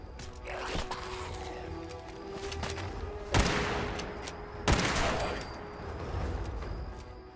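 Scattered gunfire in the video game Fallout 4 Far Harbor, with a busy layered battle background and two sharp, louder shots standing out midway.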